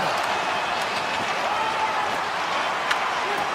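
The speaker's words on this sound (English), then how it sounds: "the home team giving the fans something to cheer and get loud about" A hockey video game arena crowd roars and claps steadily as the home team presses late in the game, a dense continuous wash of cheering with a commentator talking over it.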